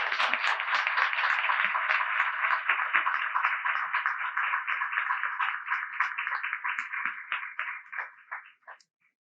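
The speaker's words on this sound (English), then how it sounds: "Can we just have a round of applause for these people and their amazing stories?" An audience at a Chicago listening session on prison phone services gives a round of applause, lively clapping that stays full for several seconds and then thins out to a few scattered claps before stopping.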